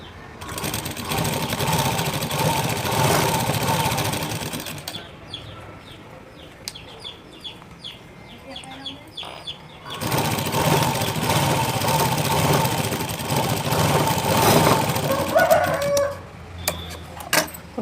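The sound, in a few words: sewing machine stitching blouse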